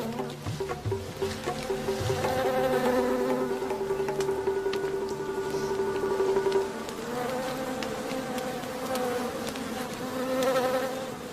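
A swarm of bees buzzes in the smoke as people work in tiger country. The dense, droning hum is loud and close and runs steadily through the whole stretch, with no voices.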